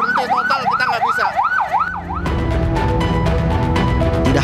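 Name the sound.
ambulance siren in traffic jam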